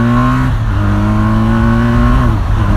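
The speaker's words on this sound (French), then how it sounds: "je vais en profiter pour accélérer à fond en seconde" A BMW R 1250 RT motorcycle accelerates hard in second gear, its engine note climbing steadily and loud from close up, with a brief dip around each half second before rising again.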